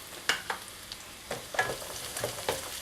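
Grated coconut and green chillies sauté in a pan for a green peas and potato kurma, a soft, quiet sizzle broken by a series of light scrapes and taps as the mixture is stirred.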